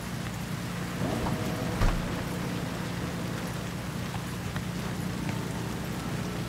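Steady rain in the Cyberpunk 2077 game, a constant dense hiss of drops on surfaces at moderate level, with a low hum beneath and a single faint thud partway through.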